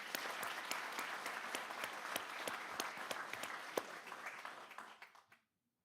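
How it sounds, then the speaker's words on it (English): A school board meeting audience gives a round of applause for a young basketball player, dense steady clapping from a crowd that carries on for about five seconds before tapering off and stopping abruptly. "Let's give a big round of applause for Wyatt Underwood."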